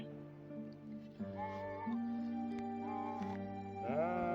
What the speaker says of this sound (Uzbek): Mana qo'ylar o'tlashni qarang